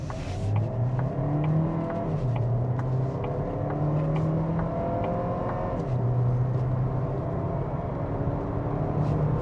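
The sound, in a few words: Kia Seltos hybrid accelerating hard in sport mode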